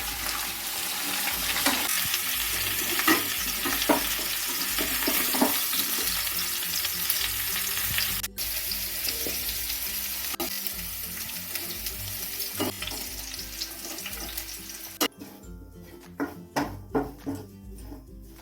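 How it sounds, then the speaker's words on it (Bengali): Vegetables for navratan sizzle steadily in a kadai over a high gas flame, with continuous frying crackle, occasional stirring scrapes, and a few clatters near the end. "দু থেকে তিন মিনিট আমি ভেজে নেব গ্যাসের ফ্লেমটাকে হাই রেখে"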